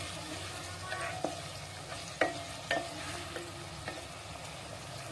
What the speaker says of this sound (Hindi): प्याज डाल दिए, थोड़ा अच्छे से इसे भून लेंगे